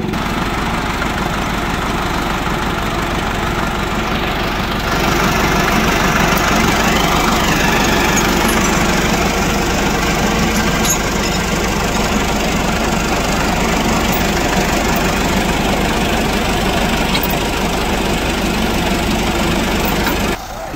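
A Massey Ferguson 385 tractor engine idles steadily for the whole stretch, a loud continuous low rumble with no break and no talk over it, standing still on an outdoor site where sugarcane has been hauled.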